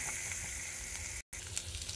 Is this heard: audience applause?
no